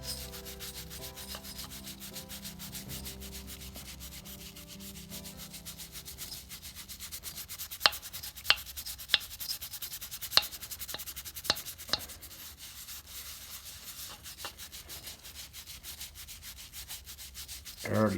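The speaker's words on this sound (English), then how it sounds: "Took quite a bit of scraping and brushing and clean off the piston. Just using my brass brush." A brass wire brush scrubs carbon off a Kohler Magnum M-20QS engine piston in steady, quiet rubbing strokes, with a handful of sharp taps and clicks partway through.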